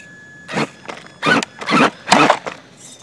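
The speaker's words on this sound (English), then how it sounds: "We're going to see how much we can torture this motor" A brushed electric motor in a Traxxas RC car is pushed under stress, letting out several short, loud whining bursts separated by brief pauses.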